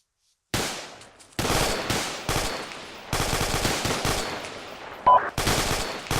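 Sustained automatic gunfire from a fire team in the ArmA 2 military simulation game, laying down loud, dense bursts of shots on an enemy trench, broken by short gaps, with no talk over it.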